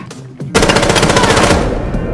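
Rapid automatic gunfire in the video game Rainbow Six Siege, a loud sustained burst of shots erupting after a brief quiet moment and continuing steadily to the end.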